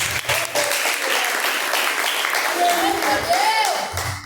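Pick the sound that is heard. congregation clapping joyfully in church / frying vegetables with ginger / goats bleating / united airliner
congregation clapping joyfully in church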